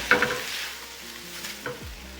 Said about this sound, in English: Give it all a nice mix and cut my heat off